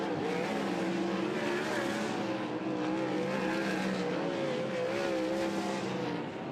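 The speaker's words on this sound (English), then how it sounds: "all the cars slow down" Race cars on a short track during qualifying drone steadily at moderate distance as they slow down after the checkered flag, engine tones wavering as they pass.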